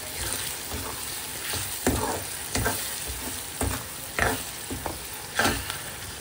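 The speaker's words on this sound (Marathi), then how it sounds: "छान मसाल्याला एकत्र मिक्स करून घेऊ आपण।" Spoon stirring a spice masala of coriander powder, turmeric and salt for green pea and eggplant bharta, a series of scraping strokes against the pan over a soft sizzle, close and moderately loud.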